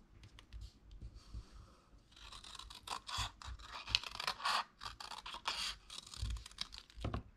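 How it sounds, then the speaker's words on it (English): Scissors cut a shape out of a sheet of card up close, a quiet series of crisp snipping and scratching strokes in an irregular rhythm, with no talking. "Then trace the hull onto another sheet of card and cut out the top edge."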